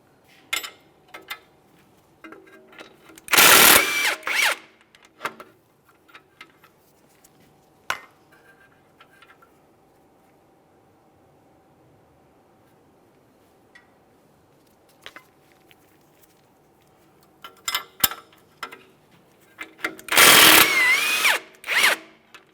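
A power tool such as an impact driver spins off 19mm mounting nuts on a Mitsubishi Lancer's front hub in two loud, short bursts near the start and end, with quiet clinks and handling noises between them.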